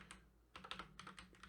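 Quick bursts of keystrokes on a computer keyboard during coding, a short pause then a faster run of taps, faint and close with no talk.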